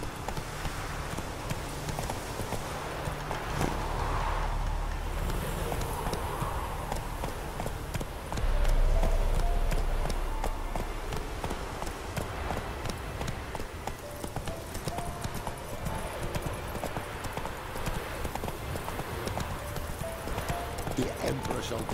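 In The Witcher 3 a horse gallops with steady rhythmic hoofbeats, fairly loud and continuous under ongoing talk, with a brief whinny partway through.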